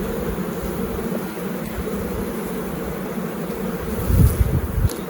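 Honey bees in a hive give a steady low buzzing drone with faint wind noise, swelling briefly louder near the end as the colony stirs.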